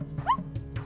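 A performer vocally imitates a dog barking on a stormy night, producing one short, close, yelping bark with a whiny rising pitch over a low background hum.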